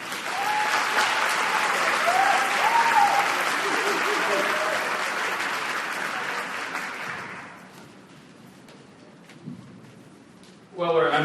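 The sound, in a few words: audience applause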